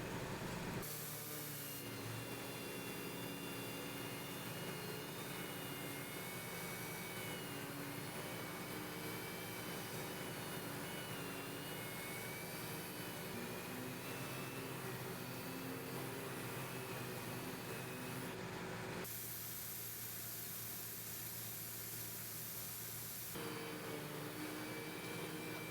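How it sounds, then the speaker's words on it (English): Wet diamond sanding of a headlight lens produces a steady, fairly faint machine whir with a gritty hiss. It runs continuously, drops out briefly near the end, then picks up again. "We'll further refine the lens surface with our wet diamond technique."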